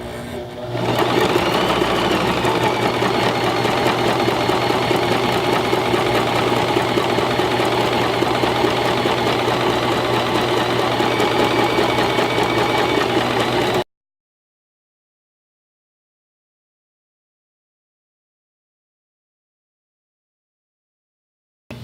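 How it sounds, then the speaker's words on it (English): A sewing machine runs continuously at a steady fast pace, stitching fabric for a zipper sack with a loud, even mechanical whir for about fourteen seconds before stopping abruptly into silence. "You don't need to backstitch at your corners, you just sew."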